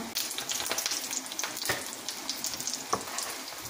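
Tomato sauce and paste with onion and garlic sizzling in a pan, a steady bright frying hiss broken by occasional pops and stirring clicks, close up and without talk.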